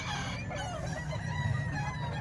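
A rooster offered for sale at a Friday market in Bukawi, clucking and crowing in a busy outdoor din, with a steady murmur of crowd and market noise underneath.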